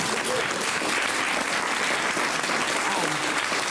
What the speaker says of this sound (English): I think we should give Laura an extra round of applause for that